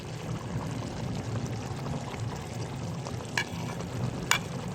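Tomatoes frying in a karahi for mutton koyla karahi, mashed down with a spoon: a steady low sizzle with a couple of brief scraping clinks of the spoon against the pan, no talking.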